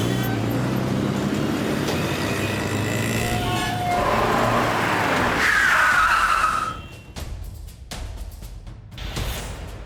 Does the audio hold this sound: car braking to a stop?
yes